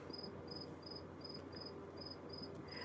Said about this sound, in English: you hear the cricket?